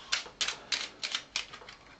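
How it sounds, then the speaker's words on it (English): Playing cards being shuffled by hand during a Lego build, heard as five or six crisp riffling bursts in a steady rhythm, close and fairly quiet, with no talking. "I'll shuffle your cards for you"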